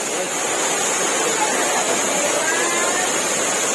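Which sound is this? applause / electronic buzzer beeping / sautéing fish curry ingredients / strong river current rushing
strong river current rushing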